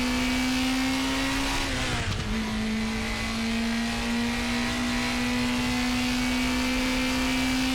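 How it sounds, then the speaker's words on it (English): NSU Prinz TTS race car engine in RaceRoom on the Zandvoort circuit, a steady high-revving buzz held at near-constant pitch, with a brief dip around a gear change before the note settles back, loud and alone. "RaceRoom also has one of the best, in my opinion, engine sounds in the genre."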